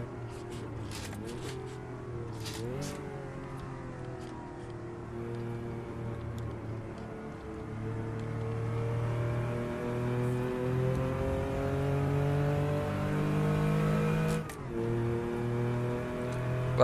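Engine note of a Porsche 911 rises and falls as the throttle is applied and then lifted off during cornering, a steady droning hum heard from inside the car that swells midway before easing back.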